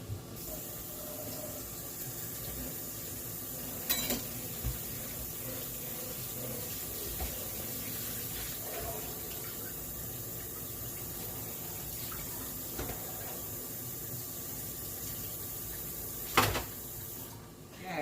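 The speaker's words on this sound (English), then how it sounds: "I washed off the cutting board from doing the garlic" Tap water running into a kitchen sink while a cutting board used for garlic is rinsed, a steady faint stream with occasional knocks and clatters of the board, the flow continuous and fairly close throughout the long stretch.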